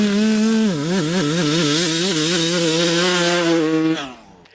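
A dirt bike engine screams wide open off the line for a holeshot, a loud sustained rev that wavers as it pulls, then cuts off sharply near the end.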